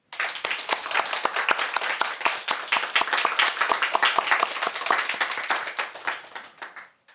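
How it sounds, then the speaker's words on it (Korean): A church congregation claps during a Korean sermon. Many individual claps ring out in a fast, uneven patter that builds, holds steady for several seconds, then thins out and fades near the end. "하나님께 영광의 박수."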